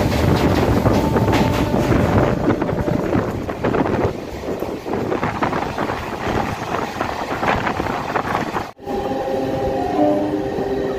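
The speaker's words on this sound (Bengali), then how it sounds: "ট্রেন আমাদের সাঁতরাগাছি মেছেদা দীঘা লোকাল 4 নম্বর প্ল্যাটফর্মে তার নির্ধারিত সময় থেকে 5 মিনিট দেরিতে সাঁতরাগাছি স্টেশন থেকে ছেড়ে দিল" Santragachi–Mecheda–Digha local train pulling out of platform 4 at Santragachi station, a loud continuous rumble and clatter of rail cars with wind buffeting, briefly cut near the end before the rolling noise resumes.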